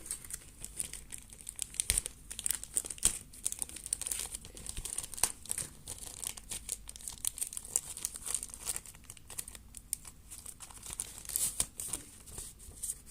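Dynamite Belial toy box being opened, close crinkling and crumpling of plastic packaging with bursts of tearing and rustling throughout, no speech.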